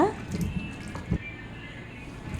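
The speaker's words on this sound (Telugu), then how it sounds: "శుభ్రంగా కడిగి వీటిని చిల్లులు దాంట్లో వేసుకోవాలి వడకట్టాలి వాటర్ అంతా పోయ పోవాలన్నమాట" Water drains and drips from freshly washed leafy greens sitting in a perforated colander. The trickle and drips are soft and uneven, with a few louder splashes close by.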